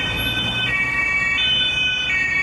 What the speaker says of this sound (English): And the German siren.